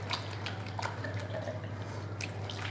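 Water from a tap in an airport washroom, heard as irregular soft drips and splashes over a constant low hum, close and fairly quiet, with no voices.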